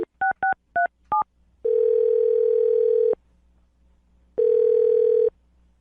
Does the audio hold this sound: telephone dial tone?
yes